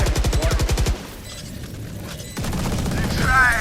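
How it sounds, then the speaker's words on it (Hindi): A swarm grenade goes off in the video game Valorant as a loud, rapid string of popping blasts in the first second, then fades into quieter game ambience. "Swarm grenade out."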